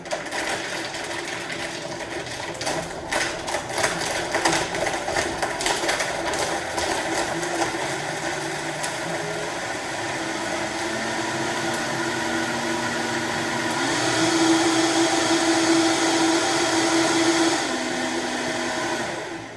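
A Vitamix blender runs continuously while making a smoothie, giving a close, steady motor whine that grows louder and rougher toward the end.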